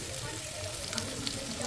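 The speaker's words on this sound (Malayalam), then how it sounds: "അപ്പോൾ എണ്ണ ഒഴിച്ച് കടുക് പൊട്ടിയിട്ടുണ്ട് കേട്ടോ" Mustard seeds crackle and sizzle in hot oil in a pan with cabbage, a dense, close, continuous frying hiss with small scattered pops.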